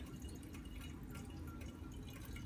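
Water poured into the back reservoir of an Atomic coffee machine, a faint, steady trickle with soft dripping and sloshing, quiet and close.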